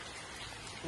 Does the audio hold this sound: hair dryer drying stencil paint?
no